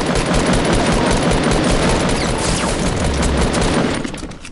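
Dense, continuous gunfire rattles without pause in a PS4 shooter game, loud and near, fading slightly at the very end.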